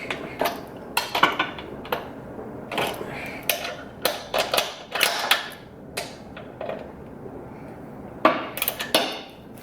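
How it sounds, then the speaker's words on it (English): Ratchet clicks and metallic clanks while loosening the four cover bolts on a Lawn-Boy Dura-Force small engine, coming as irregular close bursts of sharp clicking and tool knocks. "So take your ratchet,"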